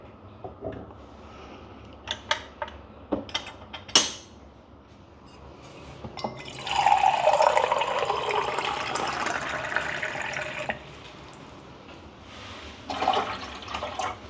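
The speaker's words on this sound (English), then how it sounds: "let me just fill up the tank with some water" Water pours into a Wendougee espresso machine's small water tank for a few seconds after some clicks and knocks, with a rushing splash that stops abruptly, then a few more handling sounds.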